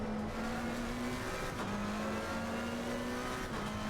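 McLaren race car engine in a racing video game, a steady sustained drone holding near-constant pitch with a couple of brief dips as the revs shift, continuous and moderately loud with no talk.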